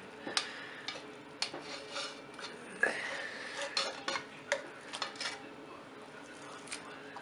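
Forks shredding pulled pork off the bone, giving scattered close scraping and clinking strokes with soft tearing between, quiet and uneven over several seconds without speech.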